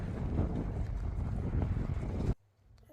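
Strong wind buffets the microphone on a windy day in Qarıqışlaq village in Lachin, a continuous rushing roar that cuts off abruptly near the end and leaves near quiet.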